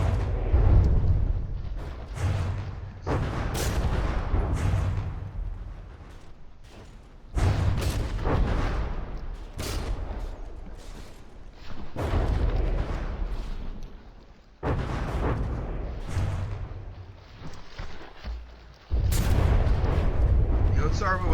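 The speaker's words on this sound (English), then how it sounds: "Otsarva was able to survive the barrage from the Quasi for a lot longer than most of its opponents" Sustained artillery barrage in the naval combat game From the Depths, with dense, repeated booms and rumbling blasts pounding almost continuously, loud and close, broken only by brief lulls.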